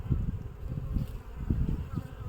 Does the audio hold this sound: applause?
no